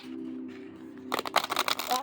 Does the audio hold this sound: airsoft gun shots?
no